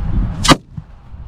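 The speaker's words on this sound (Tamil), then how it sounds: "சோ நீங்க பாக்குறது 6 இன்ச் ஜோக்கர்" A 6-inch Joker firecracker bursting, a single sharp loud crack close by, followed by a brief fading echo over low outdoor background noise.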